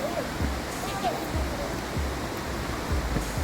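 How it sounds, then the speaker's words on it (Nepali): Mohini waterfall at Kulekhani, Nepal, gives a steady broadband rush of falling water nearby. A few low thumps come through, and a voice may be faintly present. "यो चाहिँ हो मोहिनी झर्ना, रमाइलो रहेछ"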